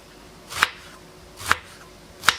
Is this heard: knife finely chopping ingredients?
yes